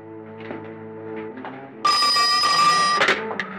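Telephone ringing in an Egyptian film scene: after a stretch of sustained musical tones, a loud, close electric bell ring bursts in and rings continuously, briefly pausing before resuming.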